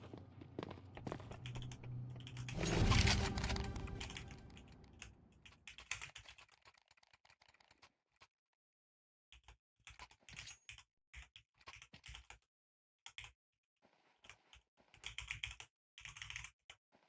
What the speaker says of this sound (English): Can hear you typing.